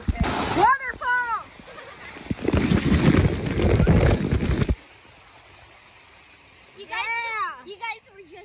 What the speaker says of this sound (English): You guys were just in a waterfall